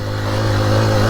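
A 2023 Honda XR150L motorcycle engine chugs along at a steady, even drone, loud and close, with no revving or breaks.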